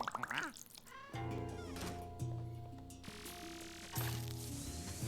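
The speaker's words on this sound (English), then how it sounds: "I see the cat. It's in the melons." A cat meows several times in the video game Luigi's Mansion 3, in quick rising cries at the start, then game music with layered tones and squishy effects takes over.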